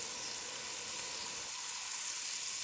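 Butter sizzles steadily in a hot pan of aloo pulao with tomatoes, yogurt, bay leaf and cilantro, a continuous close, even frying hiss with no speech.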